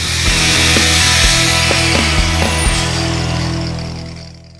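A cutoff wheel slices through rusted rocker panel metal on a Mazda Miata MX-5, a loud, high grinding whine with repeated catches and bumps as it bites, fading out at the end.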